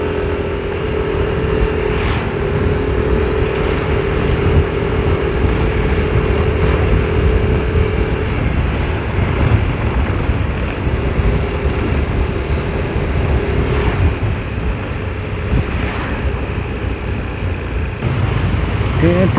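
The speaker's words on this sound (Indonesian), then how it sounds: "macet ini. Beneran macet." Steady engine drone and road rumble from a Yamaha Nmax 155 scooter riding through a night traffic jam, loud and continuous with wind buffeting and surrounding vehicle noise, a voice talking over it in places.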